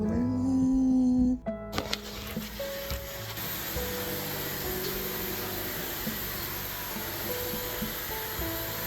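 A steady, loud motor whine drones continuously after a brief tonal start, with faint rubbing and bumping sounds over it.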